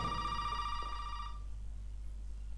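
A telephone rings in the horror video game Resident Evil 7, one loud electronic ring that cuts off abruptly and leaves a low hum.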